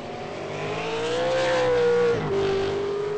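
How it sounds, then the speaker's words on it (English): V8 Supercar race car at Zandvoort accelerating out of the esses with wheel spin, engine note rising loud and steady for a few seconds, then dropping briefly as the gear changes and climbing again. "Massive wheel spin from Muggo coming out of the S's."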